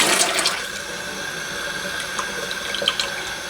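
Water runs steadily from a tap while homemade butter is washed, a close, continuous splashing hiss with small gurgles and no voices.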